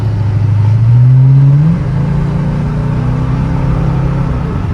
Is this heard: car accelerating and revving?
yes